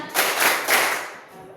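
A few sharp hand claps close by in quick succession, trailing off into quiet.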